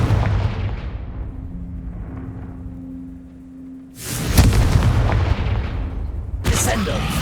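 Confringo fire spell explosions in Hogwarts Legacy: a low rumbling blast and a fading tonal hum, then a sudden loud, sharp explosive burst with a long rumbling tail and another crack just after.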